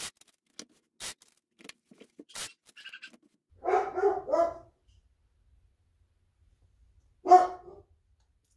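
Indoor dogs let out a few short barks, first a brief cluster of yaps and then another single bark a few seconds later, moderately distant in an otherwise quiet room.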